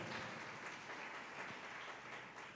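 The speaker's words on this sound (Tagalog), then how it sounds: "Pumalakpak ng malakas sa ating mahal na Panginoon." Loud, sustained applause from a church congregation during a JMCIM preaching service, a dense wash of clapping filling the whole stretch with no voices above it.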